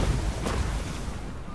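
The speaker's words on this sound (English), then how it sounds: "With support fire of the Plague Claw catapults" A deep, rumbling boom from Plague Claw catapult support fire in a Total War: Warhammer 2 battle, a low heavy thud that decays into a broad, noisy wash with no voices.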